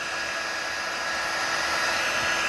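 A heat gun blows a loud, steady rush of air with a high, constant whine, running without a break while heating rubber insulation over soldered electrical wires.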